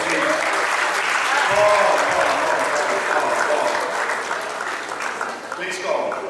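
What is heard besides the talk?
applause at graduation ceremony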